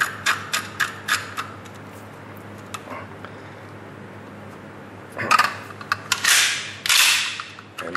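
Metallic clicks and clatter as a rifle barrel is screwed down onto the action, several sharp ticks early, then a burst of scraping and rattling handling noise close up.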